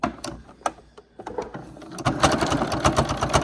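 A sewing machine back stitching through cotton fabric for a homemade face mask, with a few sparse stitch clicks at first, then a rapid continuous run of stitching near the microphone.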